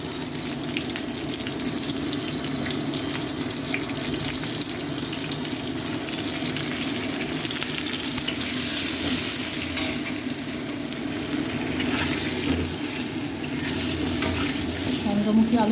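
Chandramukhi potatoes fry in a pan with turmeric, giving a steady, close sizzle and bubbling that runs unbroken the whole time with no voices.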